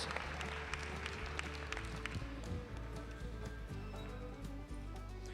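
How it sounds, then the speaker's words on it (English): Crowd at a Percheron draft horse show claps for lady drivers in an evening class, a faint, scattered patter of applause over a low arena hum with occasional hoof knocks. "let's give these ladies a nice round of applause"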